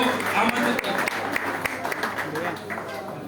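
A crowd at a Valmiki Jayanti gathering applauds loudly and continuously in a dense wash of clapping while someone speaks over it through a public address system.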